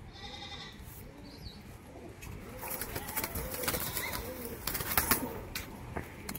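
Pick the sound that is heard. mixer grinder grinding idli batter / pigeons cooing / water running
pigeons cooing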